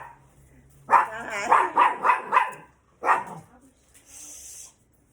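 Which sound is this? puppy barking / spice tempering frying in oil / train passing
puppy barking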